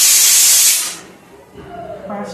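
A pressure cooker whistle vents steam in a loud, close, airy hiss that lasts about a second, then fades to a low background with faint kitchen sounds.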